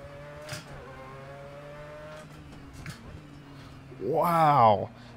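Mazda 787B race car engine in a sim racing game at Red Bull Ring, a steady rising whine under talk, then a brief loud high rev near the end.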